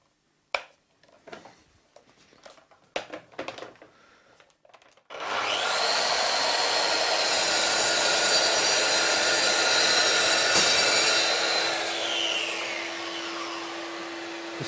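A Mafell MT55 plunge saw cuts at full depth in a second pass, following a shallow 3 mm scoring cut. After a few scattered clicks and knocks the motor comes in loud and close, whining steadily through the cut for about nine seconds before easing off.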